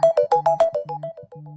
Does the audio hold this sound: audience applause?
no